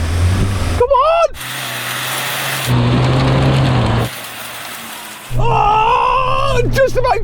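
A Toyota Hilux or Ford Ranger pickup in four-wheel-drive low, revving at full throttle with its wheels spinning and flinging mud, the engine roaring in loud surges between short breaks, with people shouting and talking over it.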